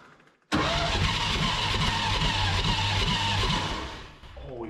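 A big block 1959 Chevrolet dump truck engine, abandoned for 17 years, catches abruptly after a brief crank and runs loud and rough at a steady idle before dipping slightly.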